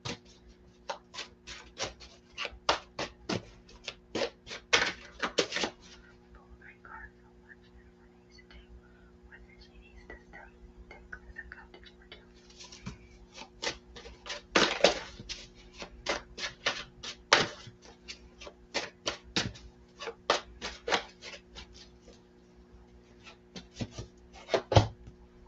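Tarot cards shuffled and pulled at a table during a live reading, a long run of quick papery riffles, slaps and rubs in close bursts with pauses between, steady hum underneath.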